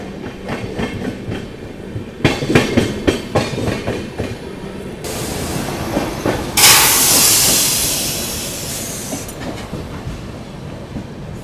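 Grand Trunk Express rolling into Ballarshah station, with rhythmic wheel clatter in the first half, then a loud rushing hiss that rises and fades in the middle before the train noise settles back.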